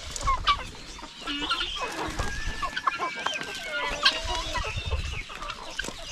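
Roosters and hens on a farmyard cluck and call continuously, several birds overlapping at close range with busy chatter and occasional louder squawks, a steady lively flock throughout.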